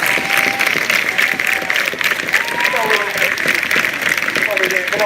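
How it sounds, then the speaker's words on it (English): A protest crowd in San Luis Obispo applauding in a steady, dense wash of clapping that carries on throughout, with voices faintly heard beneath. "I guess the people standing are the ones being applauded for starting the movement"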